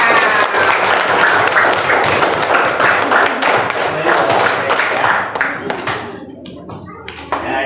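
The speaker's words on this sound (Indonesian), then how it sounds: "Tepuk tangan." Applause in a micro-teaching classroom lesson, a burst of brisk clapping from students that holds steady and then thins out and stops near the end, with a few voices mixed in.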